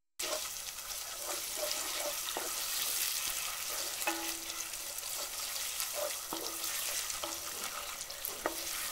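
Duck curry with ginger paste and chopped tomato sizzles in a pan as a spoon stirs it, with faint scraping knocks over a steady frying hiss, close and quiet.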